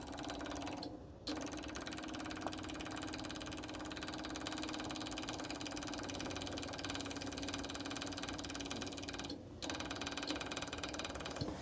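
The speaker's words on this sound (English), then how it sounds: "we'll run the fuel pump for a minute to prime it." An old generator's fuel pump runs steadily to prime it after sitting unused for years on a racecar trailer, a constant low mechanical hum with a faint rapid ticking, briefly interrupted twice.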